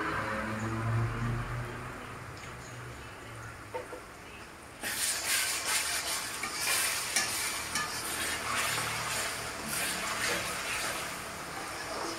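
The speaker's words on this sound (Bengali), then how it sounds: "এখন আদা রসুনের পেস্ট দিয়ে দিয়েছি। এখন এটাকে আমি ভালো করে ভেজে নেব।" Ginger-garlic paste frying in a pan for chicken curry: a steady sizzle and stirring scrapes, quiet at first, then a sudden louder, brighter burst of hissing sizzle that continues, with no talk.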